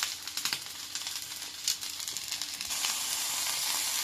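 Frozen broccoli and garlic sizzle in olive oil in a pan, a steady close hiss with a few light stirring clicks and a louder, brighter sizzle toward the end.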